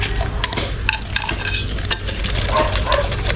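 A cooking pot is scrubbed with sand, giving gritty, scraping strokes with metallic clinks in an irregular rhythm, close and fairly loud, with no talking.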